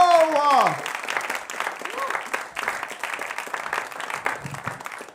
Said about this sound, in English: Please give a big round of applause to Anu.